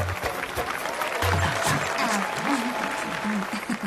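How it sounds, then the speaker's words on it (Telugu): A short burst of clapping from a small group rises and carries on steadily, with a voice or two heard underneath. "కొట్టండి రా చప్పట్లు."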